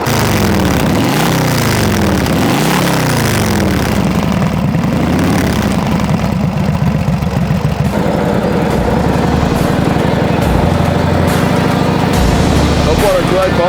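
A 1935 Indian Sport Scout motorcycle engine runs close and loud, with a rough, steady idle that swells through a couple of revving surges before settling into an even beat, while people talk over it.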